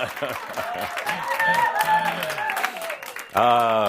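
Audience applause at a gathering in Coal Creek Canyon, Colorado comes through as a scattered clatter of clapping running under a voice as he speaks on stage.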